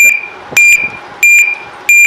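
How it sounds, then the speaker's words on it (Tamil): A smart door lock alarm sounds in loud, piercing electronic beep bursts that repeat in a steady pattern, each burst a shrill tone with short gaps between. "இதுலேருந்து ஒரு அலாரம் மாதிரி ஒரு சவுண்டு வரும்"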